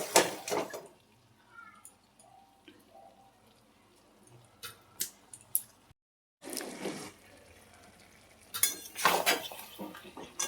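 Spatula scraping and clinking against a metal pan while cabbage curry with fresh coriander leaves is stirred, in bursts at the start and end with a quieter gap between, close by.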